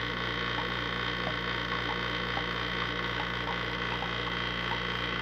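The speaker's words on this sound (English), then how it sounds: "I'm gonna deep vacuum. This thing pulls fast." A Yellow Jacket vacuum pump pulls a deep vacuum with a steady, loud electric hum and drone that stays constant throughout, with no voices.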